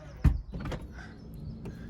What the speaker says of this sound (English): This one has remote power doors.